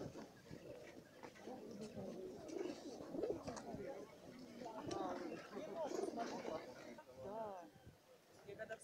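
Soft pigeon coos warble repeatedly under people talking nearby at a bird fair, with a busy murmur of voices and movement in the background.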